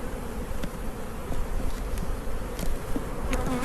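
Many honeybees buzz continuously close by around a hive, a dense droning hum with individual insects flitting past.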